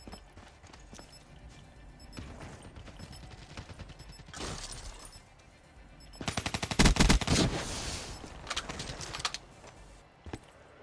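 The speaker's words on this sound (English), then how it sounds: "He just shot all of them." Gunfire in the video game Call of Duty: Black Ops III, scattered shots building to a dense, loud rapid-fire burst around the middle, then tapering into a few sharper single cracks.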